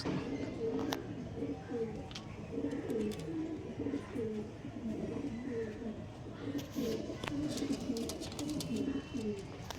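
Several old-line pigeons coo repeatedly in low, rolling phrases close by, a steady layered cooing through the whole stretch with faint background noise.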